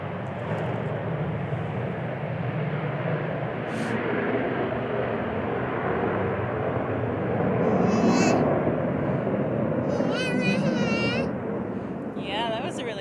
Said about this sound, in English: Yeah, that was a really noisy plane.